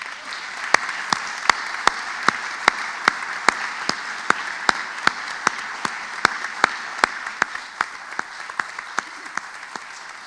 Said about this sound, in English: UPEI round of applause.